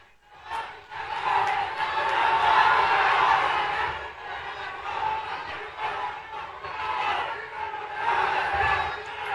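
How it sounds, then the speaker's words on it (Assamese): A large crowd at an event with Assam's chief minister breaks into sustained applause and cheering after his speech, a dense, loud wash of clapping and voices swelling and ebbing for several seconds. "মই তেওঁলোকৰ বাবে আপোনালোকক এটা হাত চাপৰি মাৰিবৰ বাবে অনুৰোধ কৰিম।"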